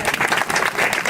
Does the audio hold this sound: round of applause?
yes